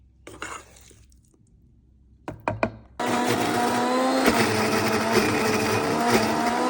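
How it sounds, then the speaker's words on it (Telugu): A mixer grinder blends garlic, salt and asparagus for chutney. After a few soft clinks and knocks, the motor kicks in with a loud, steady whirring roar that runs continuously to the end. "ఇవన్నీ గ్రైండర్లో మిక్సీలో వేసేయండి గార్లిక్ వెల్లుల్లి సాల్ట్ ఉప్పు ఫస్ట్ వీటిని గ్రైండ్ చేయండి"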